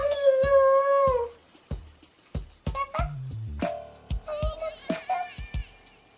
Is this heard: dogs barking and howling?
yes